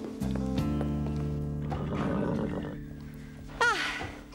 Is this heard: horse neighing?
yes